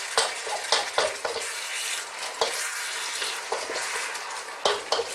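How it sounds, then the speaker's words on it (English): Pork and pak choi with fresh cilantro stir-fry in a hot wok, a steady loud sizzle broken by repeated scraping and tossing strokes of a utensil, close and without talk. "Simply throw that in the pan, around in your lovely hot wok."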